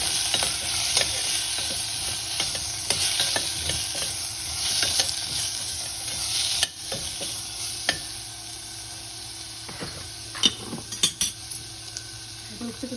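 Chayote curry with turmeric, coriander powder and ginger-garlic paste frying in a pan, with steady sizzling throughout and frequent scraping and clinking of a spoon stirring against the pot.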